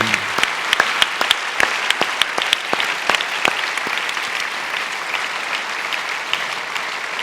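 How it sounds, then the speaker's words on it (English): Audience applause fills a post-screening Q&A at a documentary festival, with dense, steady clapping from a sizable crowd close by and sharp individual claps standing out throughout. "I always think we should just applaud Whitney."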